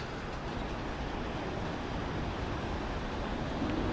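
A fast train passes through a station on the line toward Windsor and Eton Riverside, a steady, broad rumbling roar of wheels and wind at constant loudness, with no voices.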